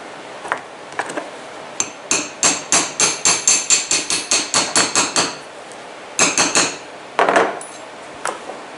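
Sharp metallic hammer strikes seat a burr on a snowshoe binding, a quick run of about a dozen evenly spaced ringing blows followed by a few scattered taps, close and clear with no talk.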